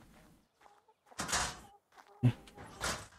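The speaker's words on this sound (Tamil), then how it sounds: "இந்த கோழிக்கு முட்டை போகிறத தவிர வேறு எந்த வேலையும் இல்லையா" A chicken in the video game ARK: Survival Evolved gives a few short clucking bursts, close and fairly clear, separated by near silence.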